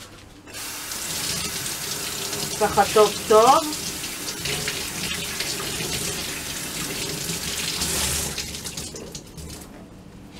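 Kitchen tap water runs steadily over eggplant slices being wetted, splashing and shifting briefly as they pass under the stream, while someone speaks briefly.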